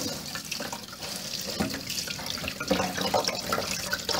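Tap water runs steadily into a kitchen sink as saltfish for Jamaican ackee is rinsed under it, a continuous close splashing and trickling with small shifting splashes throughout and no talking.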